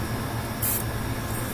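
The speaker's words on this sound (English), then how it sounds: "Make sure that it is damp. Let's spray a little bit." A quick, short hiss from a spray bottle misting water onto a makeup sponge, a single soft burst, close and clear, followed by a faint second puff.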